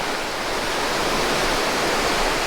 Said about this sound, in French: une belle cascade des deux côtés